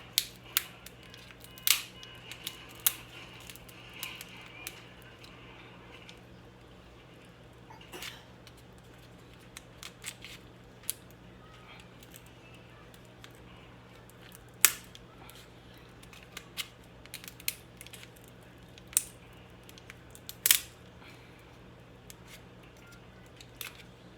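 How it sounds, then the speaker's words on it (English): Kitchen shears snip down the middle of a lobster tail shell in a series of sharp, irregular clicks and crunches, close and fairly quiet over a low steady hum, with no talking. "take my kitchen shears and I'm going to cut down the middle"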